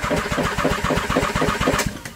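A Nissan 300ZX engine is cranked by its starter through a jumper wire, a loud, rapid, even series of rhythmic low thumps with a knocking character, heard up close and alone.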